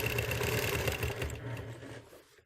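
A sewing machine stitches a quilt block in a steady rapid whir close by, running continuously for about two seconds before slowing and stopping.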